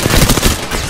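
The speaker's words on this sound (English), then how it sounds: "Shots fired and they're hitting me." Loud, close gunfire from the video game Apex Legends sounds as a rapid burst of repeated automatic shots, sharp and punchy, with no talking.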